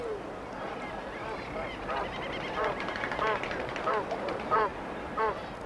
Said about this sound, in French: ignorant les nombreux oiseaux qui sont venus nicher sur ce rivage